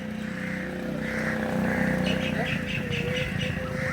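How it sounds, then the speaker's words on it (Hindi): Islamic call to prayer sung outdoors on an evening around 7:15, a sustained melodic voice drifting from a distance over steady traffic and motorbike noise, with faint bird chirps. "अजान हो रही है,"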